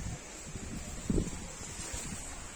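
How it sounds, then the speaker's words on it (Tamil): Steady wind rushes across the microphone with a rustling roar, one brief louder gust midway, no voices. "காற்று சரியான காற்று வீசுங்க"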